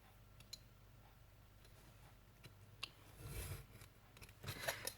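Scissors snip through paper while someone crafts a mini album keychain. Quiet, sparse clicks and a few short cutting strokes sit close but soft against a near-silent background.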